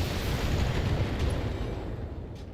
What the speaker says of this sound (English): I like an alpha strike here. All weapons are go.